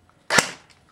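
A G36C airsoft rifle fires a single 0.2 gram BB through a chronograph, one sharp, close snap that decays quickly.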